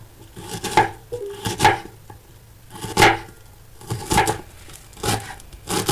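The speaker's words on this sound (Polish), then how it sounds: "Cebulę kroję w drobną kostkę." A knife finely dices an onion on a wooden board, giving clustered bursts of crisp, close chopping taps at an uneven, steady pace.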